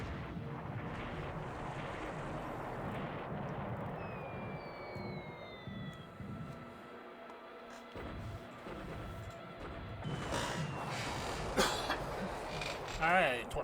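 Torpedo strikes in a World War II Pacific naval war game (Japan versus Allies, December 1941) sound as a low rumbling wash of sea and engine noise, building to a louder, rough burst of explosions near the end.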